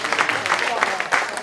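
An audience at a storytelling event claps for a storyteller in short, uneven bursts, with voices talking over the applause.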